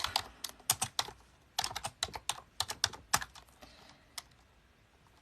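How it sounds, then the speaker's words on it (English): Close, crisp computer keyboard typing runs in fast uneven flurries with brief gaps, keys clicking sharply while no one speaks. "Oops, I'm not typing where you can see me."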